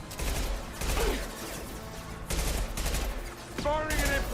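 Impact shot gunfire in Mass Effect 2, several heavy blasts spaced about a second apart with crackling tails and mechanical clatter, fairly loud, with a voice speaking briefly between shots.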